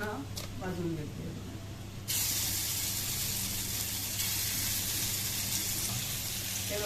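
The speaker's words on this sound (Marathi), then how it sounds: "आता हे मी मॅरिनेट केलेले पनीर पूर्ण भाजून घेते." Marinated paneer frying in a little oil in a pan, a steady hiss and sizzle that jumps suddenly louder partway through and holds there, close and continuous.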